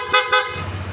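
Two short, bright horn beeps in quick succession from an aftermarket PIAA horn on a Honda ADV 160 scooter, close and loud, followed by a low engine idle.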